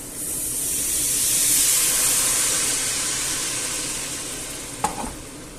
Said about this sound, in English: now I will add the white wine